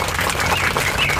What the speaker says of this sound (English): We feed this bird all the time